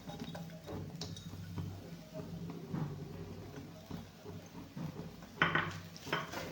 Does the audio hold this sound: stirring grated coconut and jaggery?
yes